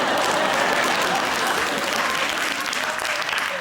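Dense, loud studio audience clapping on a British comedy panel show, a steady continuous wash of applause lasting a few seconds.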